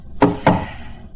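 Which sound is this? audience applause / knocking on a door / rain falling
knocking on a door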